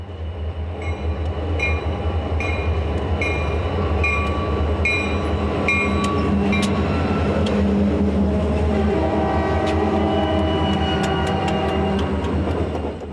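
A Canadian Pacific freight led by a wide-body SD40-2F locomotive rolls steadily past on former Soo Line track, a constant rumble and clatter with a rhythmic pattern of wheel clicks over rail joints and no voices.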